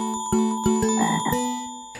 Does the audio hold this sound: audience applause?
no